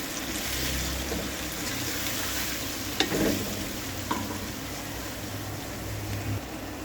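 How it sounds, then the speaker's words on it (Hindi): Potatoes and bell pepper stirred in a frying pan, a steady close sizzle of frying with soft scraping of the spoon and a couple of brief knocks against the pan. "तो इसको अच्छे से मिक्स कर लेते हैं।"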